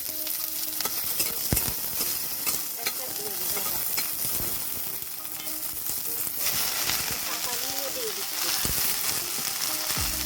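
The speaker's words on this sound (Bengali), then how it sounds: "রসুন দিয়ে একটু ভেজে নিতে হবে" Dried red chillies and garlic fry in oil in a pan, a constant crackling sizzle with intermittent scraping from a spatula as they are stirred.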